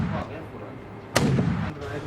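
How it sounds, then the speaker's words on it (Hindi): A pistol fired by a shooter at a fleeing thief: one sharp, loud crack stands out among fainter reports over a rough, noisy background. "उसने अपने पिस्टल से फरार होते चोर पर यके बाद दीगरे 4 फायर किए।"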